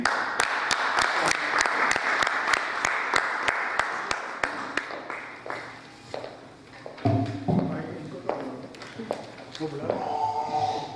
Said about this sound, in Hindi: आपकी पुरजोर तालियों से please give her a big hand.